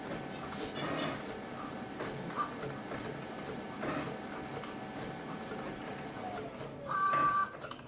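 Two Cricut cutting machines, a Maker 3 and a Joy, whir and tick together in a steady mechanical hum, with a brief louder burst near the end.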